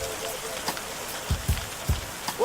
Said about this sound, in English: Well, the rain started again.